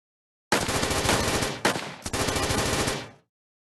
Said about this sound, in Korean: 진압반 발포해! 일제 사격 개시!